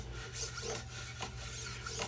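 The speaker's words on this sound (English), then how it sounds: "I put these pads underneath the strings and polish the frets." Abrasive pads rub back and forth over guitar frets beneath the strings in a faint, close rasping scrub, repeating in short strokes with no talking.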